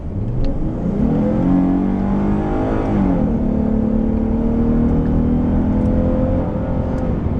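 A 2014 Dodge Charger accelerates hard from 40 to 60 mph, its engine note rising in pitch, dipping briefly at an upshift, then climbing again in a loud, steady interior drone with no talk.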